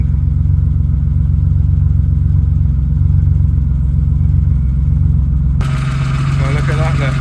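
A BMW E36 drift car engine idling steadily with a low, even rumble, loud and close, rising in intensity toward the end as a brighter, rougher tone joins in.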